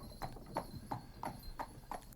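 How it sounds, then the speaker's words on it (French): A horse's hooves clip-clop in a steady, even walking rhythm, six distinct hoofbeats, fairly faint and close, with no one speaking. "Il la prit sur son cheval et partit avec elle comme sa fiancée."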